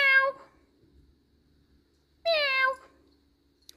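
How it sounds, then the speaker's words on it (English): A very vocal pet cat gives two clear, close meows, the first short and the second longer and rising, separated by near silence. "Meow. Meow. Meow."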